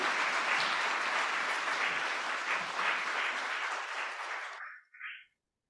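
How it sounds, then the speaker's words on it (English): An audience applauds loudly and steadily for several seconds after a presentation, then the clapping thins out and stops, ending in silence. "Can we get a big round of applause for Piper and Jamie and their presentation?"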